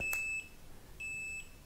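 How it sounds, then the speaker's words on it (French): A Blinxi Overade helmet light's turn signal sounds two clean, steady electronic beeps, each about half a second long and separated by a short pause, close and clear. "Alors ce que vous entendez, c'est un bip"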